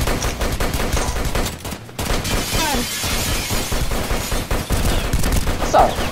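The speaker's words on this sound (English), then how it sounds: "Did you just fire at me?" Rapid bursts of automatic gunfire in the Roblox South Bronx game, loud and dense with crackling impacts, firing almost continuously with brief pauses, over faint game sounds.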